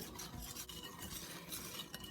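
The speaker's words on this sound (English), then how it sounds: "continue whisking until it's well incorporated" Flour being whisked into pancake batter in a bowl, a faint, quick rhythmic scraping and swishing of the whisk, close but quiet and without talk.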